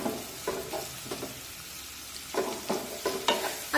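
Onion sautés over a medium flame in a pan for bharli mirchi, a soft, quiet sizzle broken by several close, intermittent scraping stirs.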